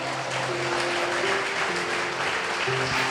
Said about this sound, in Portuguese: E as palmas são para quem?